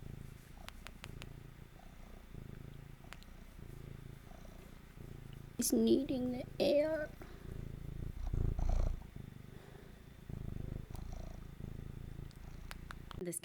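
A visiting kitten purrs in a soft, steady low rumble that runs throughout, with a voice talking intermittently above it.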